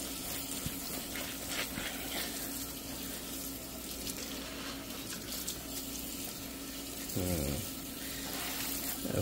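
A greasy Scrub Daddy sponge rinsed under a running kitchen tap, a steady hiss of flowing water with soft squelching and splashing as the sponge is worked, and a brief gurgling burst near the end.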